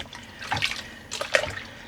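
Water runs and splashes in a sink while dyed yarn is rinsed by hand, with two brief bursts of sloshing and dripping at close range.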